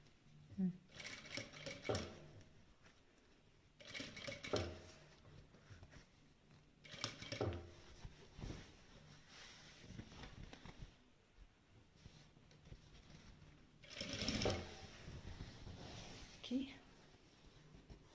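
A sewing machine runs in short separate bursts while stitching a felt chest, each whirring run close and moderately loud, with someone talking in between and over the pauses.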